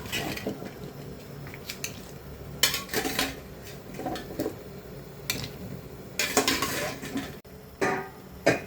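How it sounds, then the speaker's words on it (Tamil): Cauliflower florets tipped into a pot of boiling water on a home stove, giving a series of clattering, splashing bursts of vegetables and metal against the pot over a low bubbling bed, close and fairly quiet. "தண்ணி கொதிக்குது. இப்போ வந்து காலிஃப்ளவர் போட்டுக்குவோம்."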